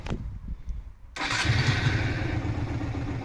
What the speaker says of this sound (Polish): jak motocykl odpala